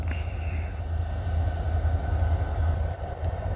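LSRC diesel freight locomotives, an SD40 and a GP40 among them, rumble steadily in Flint in January with a deep engine drone and faint rail squeal, heard from a moderate distance with no talking.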